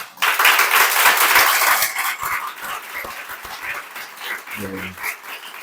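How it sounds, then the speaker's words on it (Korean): Congregation at a church founding thanksgiving service applauding loudly, dense clapping that fades to a lighter patter, with a brief voice near the end. "이 시간 인사하실 때 크게 격려로 박수해 주시기를 바랍니다"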